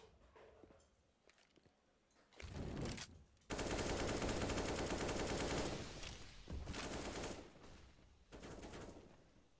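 Automatic and rapid rifle fire rattles through a Counter-Strike match on the Nuke map, with sustained loud bursts and brief pauses between volleys, heard without commentary.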